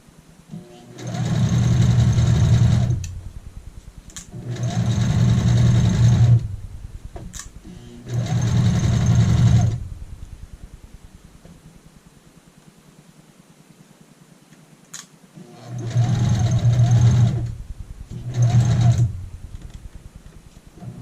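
A sewing machine stitches a waistband onto a skirt in five bursts of steady, close mechanical whirring, separated by pauses, with a longer silent gap before the last two runs.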